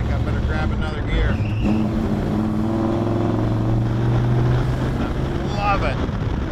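A 1969 Chevrolet El Camino engine revs and drops as the driver shifts gears, a loud, close in-cabin drone that rises in pitch after the shift, with someone talking over it.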